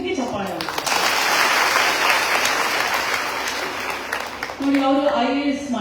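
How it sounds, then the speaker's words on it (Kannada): Audience at a panel discussion breaks into loud, sustained applause, a dense wash of clapping that holds for several seconds, then a voice resumes speaking near the end as the clapping fades. "ಇದಕ್ಕೆ ಚಪ್ಪಾಳೆ"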